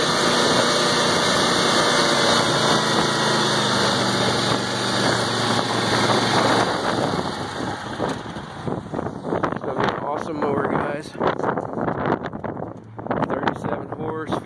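A 2020 Wright Stander ZK 52-inch mower with a 37 hp engine hums steadily at first, then turns rougher and more uneven with rattles and wind buffeting, loud and close.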